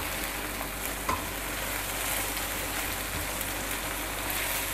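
Garlic sizzling steadily in a pan for kabab karahi, a dense, even crackle of frying oil with a faint stir sound partway through and no talking.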